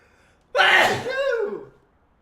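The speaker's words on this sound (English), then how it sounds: "I'm gonna sneeze." A person lets out one loud, close sneeze, a sharp burst that trails off in a falling voiced tail.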